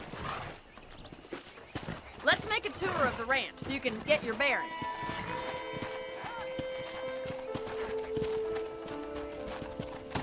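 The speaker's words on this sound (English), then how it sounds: "I picked out a fine horse for you." A horse's hooves clip-clop at a walking pace around a ranch in the western video game Red Dead Redemption, under a man's speech, with a short whinny and a music bed toward the end.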